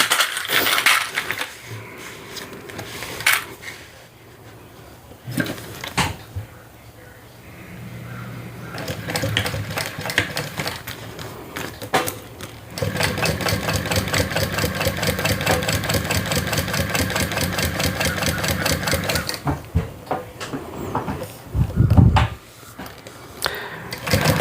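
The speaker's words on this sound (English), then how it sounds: "I'm going to top stitch across the top here at 1/8 inch" A sewing machine runs a long, steady line of top stitching across the top of a sling bag, preceded by scattered handling clunks and knocks, with a loud thump near the end.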